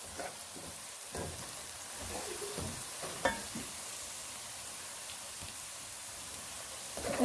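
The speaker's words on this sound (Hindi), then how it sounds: "यहाँ पर देखें प्याज जो है वो फ्राई हो रही है" Onions frying in a pan while a spoon stirs them, a soft continuous sizzle with scattered scraping taps of the spoon throughout, fairly quiet and close, no talking.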